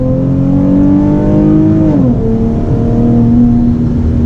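A loud V6 Dodge Challenger engine revs hard, its pitch climbing then dropping sharply as the throttle lets off, settling into a throaty steady rumble.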